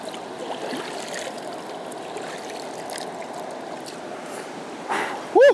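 Steady trickle and babble of a creek on a tiny island flows close by at moderate level, with a brief splash and a voice near the end.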